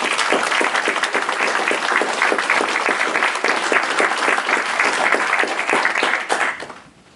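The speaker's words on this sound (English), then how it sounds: "one more good round of applause for those guys" A meeting audience at a Mars mission gathering claps in a dense, even round of applause for several seconds that then drops off quickly at the end.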